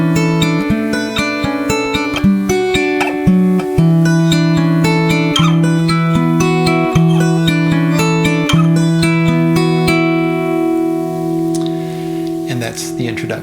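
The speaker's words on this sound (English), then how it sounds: "And that's the introduction to Scarborough Fair." Fingerpicked acoustic guitar plays the Scarborough Fair intro up to tempo in steady eighth notes on a repeating picking pattern, with clear harmonic notes ringing close and continuous for most of the passage before a brief fade at the end.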